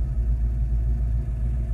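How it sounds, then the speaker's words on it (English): A 1967 Ford Mustang Fastback engine idles just after starting, a steady low rumble that stays close and constant with no talk over it. "we just started the car"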